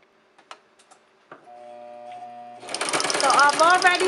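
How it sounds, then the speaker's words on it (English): Domestic sewing machine fitted with a ruffler foot gathering fabric starts after a few clicks and a brief whir, then runs with a dense, rapid mechanical chatter, close and fairly loud, with a voice talking over it. "it's because the sewing machine made 6 stitches, then a ruffle, 6 stitches, then a ruffle, and so forth"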